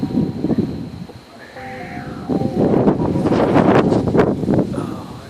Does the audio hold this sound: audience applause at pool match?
no